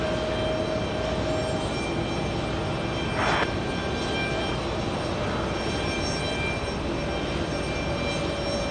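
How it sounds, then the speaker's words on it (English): A China Airlines Boeing 777-300ER arriving from Taipei lands at JFK, a steady broad jet roar filling the clip at constant loudness, with a brief brighter burst midway and faint tonal whines riding over the rumble. "Landing right now, we have a big one, China Airlines."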